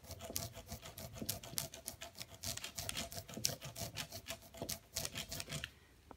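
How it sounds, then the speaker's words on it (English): A rubber brayer rolls printmaking ink across a flat inking surface, giving a steady run of sticky, crackling tacky strokes back and forth, close and moderately loud, with no talk. "You wanna hear that ticky-tacky sound."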